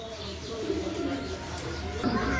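Village pigeons in pairs at a sale, with soft low cooing close by, partly overlapping someone talking over them.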